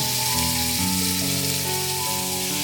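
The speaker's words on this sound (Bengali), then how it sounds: "এবার আমি এই মাংসগুলোকে এর মধ্যে সাজিয়ে দিয়ে দিয়ে হালকা ব্রাউন করে ভেজে নেব" Chicken pieces frying in oil in a pan to brown lightly, a soft, continuous hiss of sizzling under steady background music, with no talking.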